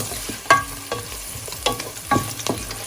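Four or five green chillies fry in hot oil in a pan for mutton pulao, with a soft continuous sizzle and a few louder scraping stirs at irregular intervals.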